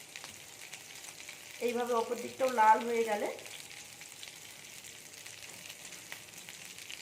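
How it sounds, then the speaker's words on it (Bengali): Aloo tikki potato patties frying in a pan: a soft sizzle runs throughout, with a short louder stretch of stirring or flipping midway and someone talking over it. "অপর দিকটাও খুব সুন্দর ভাজা হচ্ছে"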